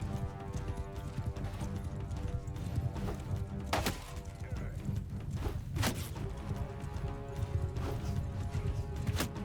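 Horses clatter in a Mount & Blade 2: Bannerlord battle, a busy hoof clip-clop under a dense battle din with a few sharp impacts, while a voice talks over it.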